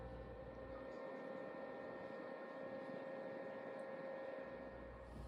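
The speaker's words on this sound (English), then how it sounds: "So while this is running, I can also smell that essential oil that I put on." A personal cooler fan blowing air past ice and a frozen filter gives a steady, quiet whirring hum with a faint tonal whine, constant throughout.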